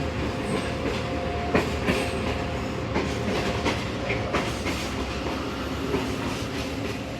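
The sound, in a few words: Faiz Ahmad Faiz passenger train running on rails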